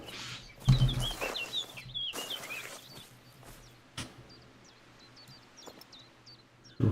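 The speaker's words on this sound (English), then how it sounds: "heard squawking from over there." Birds squawk and chirp from a riverside with reeds, in a game setting: sharp calls with bursts near the start, then scattered high chirps continuing faintly against a quiet background.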